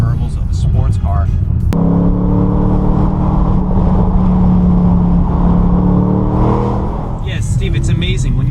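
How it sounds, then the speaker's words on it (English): A 2020 Bentley Continental GT V8 rumbles loudly with a deep, steady exhaust drone and rising engine tone, close and continuous, with people talking over it. "you would have no idea that this car can create such exhaust noise"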